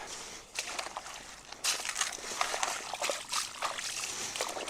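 Water sloshing and splashing in a gold pan as gravel is worked down to concentrates, close, irregular swishes and trickles with soft gritty scraping.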